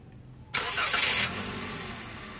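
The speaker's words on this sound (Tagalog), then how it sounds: "Tapos ipa-start ko itong makina." A Toyota Avanza engine bursts to life with a loud, rough roar after a moment of quiet, then settles into a steady, lower idle nearby.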